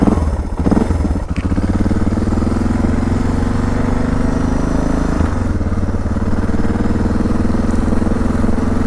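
A Suzuki DR650 motorcycle with performance modifications idles close by, a loud, steady single-cylinder thump with slight clatter and a brief blip near the start.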